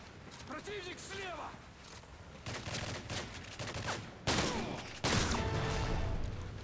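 A shotgun fires repeatedly in Modern Warfare 3 survival mode, with loud blasts and mechanical reload clatter running under continuous talking.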